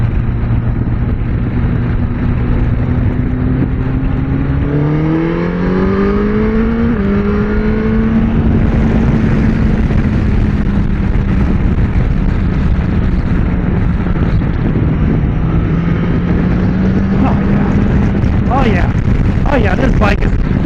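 A Suzuki GSX-S1000GX motorcycle engine drones steadily, then rises in pitch as the bike accelerates through the gears, with wind noise and a rider's voice over the loud, continuous ride.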